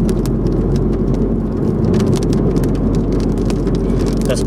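Heavy rain drums steadily on a car during a thunderstorm, a loud, dense, unbroken patter heard from inside the vehicle, with no voices.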